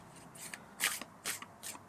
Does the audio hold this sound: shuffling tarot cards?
yes